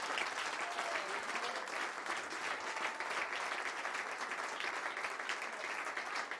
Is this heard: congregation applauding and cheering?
yes